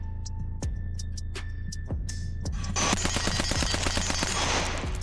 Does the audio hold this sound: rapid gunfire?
yes